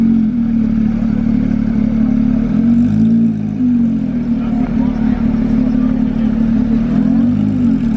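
A Porsche GT3 RS MR edition sports car drives through a bend toward the tunnel at Monaco, its engine a strong, steady drone with a slight pitch swell as it goes by, heard fairly close.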